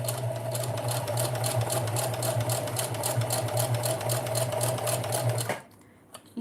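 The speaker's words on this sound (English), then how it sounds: "Right now I am sewing pockets for the apron that I am finishing today." Sewing machine running steadily while stitching pockets for an apron, a loud, continuous close motor hum with rapid regular needle clatter that cuts off abruptly near the end.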